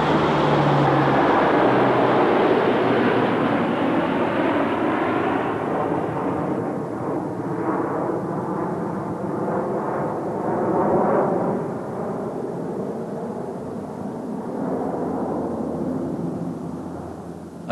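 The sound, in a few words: Hercules aircraft in flight during a parachute load drop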